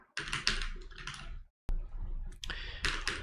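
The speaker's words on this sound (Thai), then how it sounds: "ก็พิมพ์คำว่า hashtag นะครับ" A command typed on a computer keyboard, two quick bursts of close key clicks separated by a short pause, with no talk.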